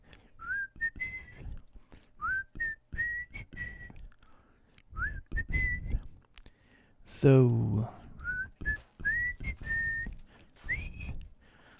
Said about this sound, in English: Man, I can't even whistle today.